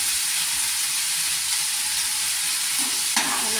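Turmeric and Kashmiri chili powder sizzling as spices are sautéed and stirred in a pan, a steady close-up hiss with a brief scrape of the spoon near the end.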